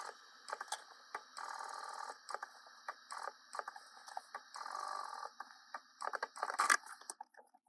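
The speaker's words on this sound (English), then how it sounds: "I'm gonna stitch this into place, just going around the edge at like 1/8 of an inch seam allowance." A sewing machine stitches a seam around the edge of a fabric packing cube, a close, steady mechanical whirr in bursts with short pauses and clicks between runs.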